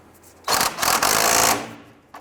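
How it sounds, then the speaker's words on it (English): A castle nut is run down onto a ball joint stud with a power tool during steering rack bellows work on a 1994-2004 Ford Mustang, making one loud rapid buzzing burst about a second long, then a faint short tap. "Let's tighten down our castle nut."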